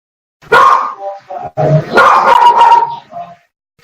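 Several dogs bark close and loud in a quick irregular burst of yips and barks, with brief gaps between them.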